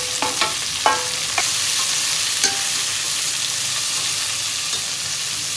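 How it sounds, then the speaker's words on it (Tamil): Onions with tomatoes and green chillies sautéing in a pan for a country chicken curry, making a constant close sizzle broken by several sharp spoon clinks and scrapes against the pan, with no speech. "வெங்காயம் வதங்கிருச்சு. இப்போ தக்காளி போட்டுக்கலாம்"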